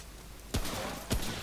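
Two sharp gunshots from a gun in the game Remnant from the Ashes, spaced about half a second apart, each a punchy blast over steady background game ambience.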